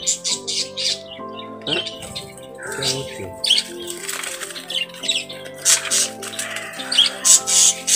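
Four-month-old budgies in a breeding colony, busy chirping and warbling from many birds close by, mixed with occasional wing flutters, while someone talks in between.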